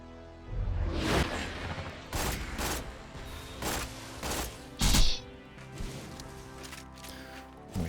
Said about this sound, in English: We still have this spider tank way back here shooting rockets at us.